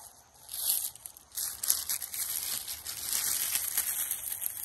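Nylon zipper bag packaging crinkles and rustles close up, a continuous crisp scratchy handling noise with no talk.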